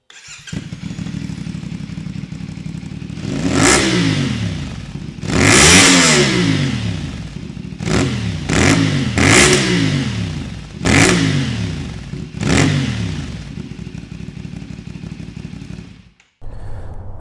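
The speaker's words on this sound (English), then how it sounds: "I'd like to let you all listen to the sound of this sweet, sweet S&S exhaust on this 450 NK" A CFMOTO 450 NK motorcycle fitted with an S&S exhaust idles close by and is blipped through a series of sharp throttle revs, each rising and falling quickly, with a brief cut near the end before idling resumes.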